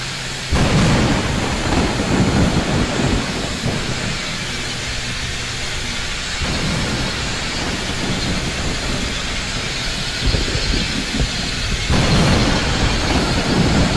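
Thunderstorm in the Roblox flight game Aeronautica, a steady loud roar of rain and wind with low rumbling thunder swelling and fading throughout, no one talking.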